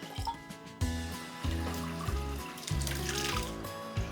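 Water poured into a pressure cooker while making ash gourd payasam, a steady trickling fill heard close up over a soft background music bed with no talk.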